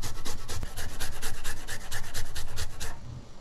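Fresh ginger rasped against a fine microplane grater, a steady run of quick rhythmic scraping strokes, close and fairly loud, about a dozen passes before it stops.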